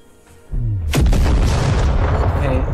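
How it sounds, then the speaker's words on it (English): Grenade explosion in the sci-fi video game Pulsar: a sudden loud boom bursts in after half a second and rolls on with a dense, rumbling blast tail, preceded by faint voices. "Why did you fire a grenade at us?"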